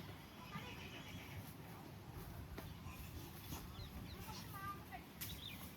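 A loose mare neighs and whinnies amid steady outdoor background noise, with possible faint hoofbeats and distant voices throughout.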